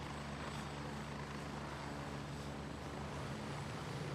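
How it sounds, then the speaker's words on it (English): A helicopter in the military shooter Gray Zone Warfare runs at a steady, dense rotor-and-engine drone. It stays loud and even from start to finish, with no voices over it. "That's my chopper."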